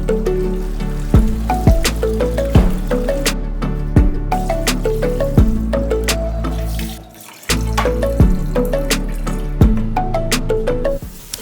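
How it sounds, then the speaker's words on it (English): Cold tap water runs into a sink over cooked spaghetti, a steady splashing stream punctuated by repeated rhythmic knocks and drips, briefly dropping away before the flow resumes strongly. "I rinsed mine directly with cold water"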